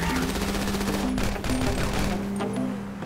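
Sustained automatic gunfire in GTA Online during a funeral-party mission, rapid bursts of shots rattling continuously and loudly, with game effects and faint background noise mixed in.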